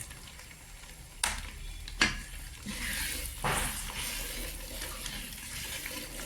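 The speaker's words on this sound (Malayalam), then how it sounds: "കുറച്ചുകൂടി നെയ്യ് ഒഴിച്ചു കൊടുക്കാം." Ghee poured into thick mukkutty lehyam cooking in a pan and stirred, a continuous soft sizzle and wet scraping with a few sharp clinks of the spoon against the pan, close by.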